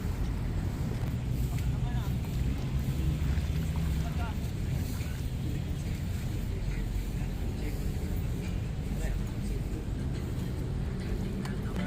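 Fishing boats head out onto Manila Bay, a steady rumbling boat engine mixed with wind buffeting and water noise, with someone talking in Filipino throughout.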